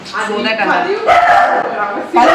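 A dog barks and yips in short bursts, close by, with people talking over it.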